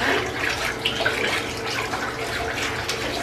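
Water splashes and runs continuously during a dog's bath, a close, busy wash of pouring and sloshing with no clear speech over it.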